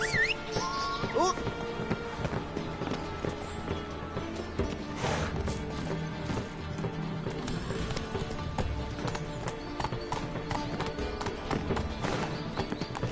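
Roach, a horse in The Witcher 3 on PS4, gallops along in a steady run of hoofbeat clip-clops. A busy layer of game music and ambience plays beneath it.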